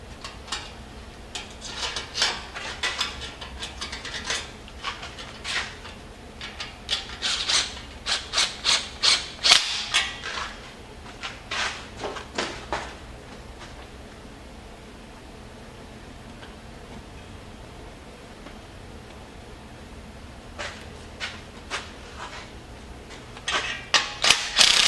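Jeep Grand Cherokee EcoDiesel exhaust clamps being tightened by hand, a close run of quick ratcheting clicks and rubbing scrapes in bursts, pausing mid-way and resuming at the end.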